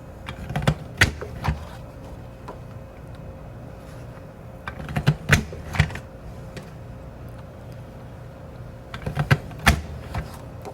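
A Bordermaker paper punch cutting red paper gives three clusters of crisp, close snapping clicks and crunches, separated by quieter stretches, with no voices.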